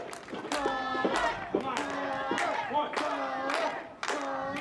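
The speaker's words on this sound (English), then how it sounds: "Crowd cheering Cutter on" Crowd at a wrestling match cheering and clapping in steady waves beneath a commentator's continuous voice, moderately loud throughout.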